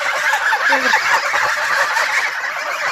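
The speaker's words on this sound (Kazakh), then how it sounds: "Мынау мен қаздарым, қазір мен қаздарды бағам. Мен олар бақырып тұр ғой." A flock of geese honking close by, a continuous loud jumble of harsh overlapping calls without pause.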